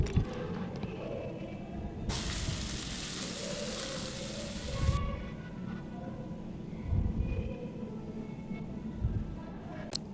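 Onions frying in oil with ginger and turmeric added for a cauliflower curry, a steady sizzle running throughout, with a louder hissing burst for a few seconds in the middle and occasional stirring knocks.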